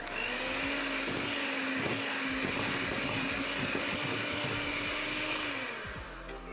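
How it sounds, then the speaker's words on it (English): An electric hand mixer whirs steadily through red velvet cake batter, a continuous close motor whine with faint rattling from the bowl, running alone without talk before tapering slightly at the end. "I'm going to use my mixer at this point"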